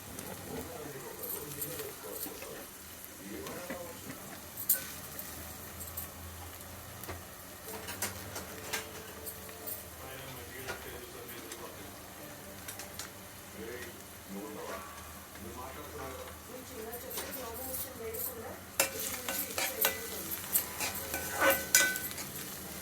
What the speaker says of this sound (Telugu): ఆనియన్ రెడ్ అయ్యే వరకు వేంపాలి